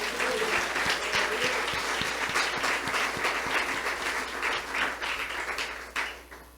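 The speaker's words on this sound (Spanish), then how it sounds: "¿Y cuánto le damos un aplauso al Señor?" Church congregation applauding the Lord during a service, many hands clapping in a dense, loud roll that holds steady and then fades toward the end.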